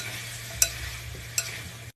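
Meat sizzles in ghee with onion, garlic, ginger and whole spices, a steady close frying hiss broken by two quick stirring clicks.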